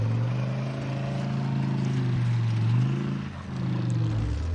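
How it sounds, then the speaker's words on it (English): Military vehicle engine in the Arma 3 game idling then pulling away, a steady low rumble with gently shifting pitch as it drives, fairly close and continuous. "I'll wait for the engine to start. Engine's ready. Off we go."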